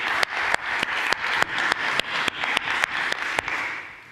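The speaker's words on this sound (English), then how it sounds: "Everyone give a big round of applause again to Igor." An audience at the DappCon24 blockchain conference applauds, a broad wash of clapping that holds steady at moderate loudness, with sharp regular ticks punctuating it, then fades at the end.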